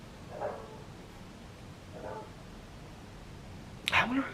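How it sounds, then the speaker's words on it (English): A neighbour's dog barking outdoors at a distance, with a few faint, spaced barks and a louder yelp-like sound near the end under steady background noise. "I wonder whose dog that is."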